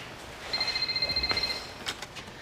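A cell phone rings with a rapid electronic trill, a steady pulsing tone lasting about a second over faint room noise, followed by a couple of small clicks.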